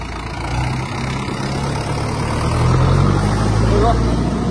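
A tractor engine rumbles steadily with a low chugging drone, rising a little louder partway through, with faint voices underneath.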